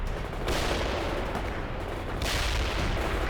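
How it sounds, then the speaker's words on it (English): Dense, continuous gunfire and artillery blasts roar in a battle from the real-time strategy game World in Conflict, a loud unbroken wall of shots and booms with two heavier surges. "They're under fire!"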